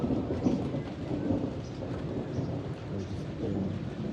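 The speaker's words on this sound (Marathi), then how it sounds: "इकडं पण जोरात पाऊस चालू आहे." Heavy rain pouring steadily with rumbling thunder during a downpour at a rural home, a dense continuous hiss and patter with low rolls of thunder underneath, no talking.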